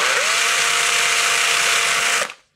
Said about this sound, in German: und bohren hier die Löcher nochmal auf.